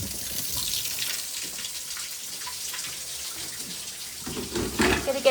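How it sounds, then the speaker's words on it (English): Hot water runs from a tap into a lightweight mop bucket, a steady splashing hiss at moderate level that rises and gushes louder near the end. "Let's run some hot soapy water."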